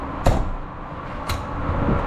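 Aluminum slam-latch storage doors on a motorhome at an RV show, two sharp metallic clunks about a second apart over steady crowded indoor background noise.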